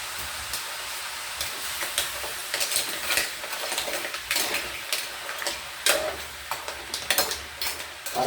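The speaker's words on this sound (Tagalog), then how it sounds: "Haluin natin to, guys, ang pugita saka at yung tahong at ang alimasag." A spoon scrapes and clatters through octopus, mussels and crab in a pot, with irregular clinks and a soft sizzle running underneath, close and fairly loud.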